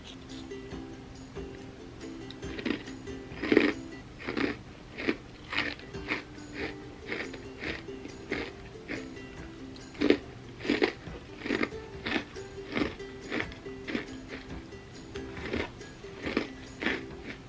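Repeated crisp crunching bites and chewing of vegan chocolate chip mini cookies, close up, in an irregular rhythm of sharp bursts with no talking.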